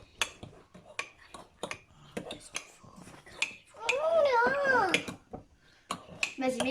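A spoon clinks and scrapes against a ceramic mug while stirring red-berry mug cake batter, the short taps coming in irregular bursts amid a child's and an adult's chatter nearby.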